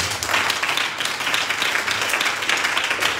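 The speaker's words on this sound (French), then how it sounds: "Acclame pour tout le monde." A congregation at a French-speaking evangelical church service applauds together, making steady, dense clapping that stays at an even level for the whole moment.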